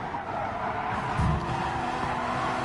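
Car braking hard in the racing video game GT Sport during an FIA GT race, a steady engine roar with loud tire skidding and squeal, no talk.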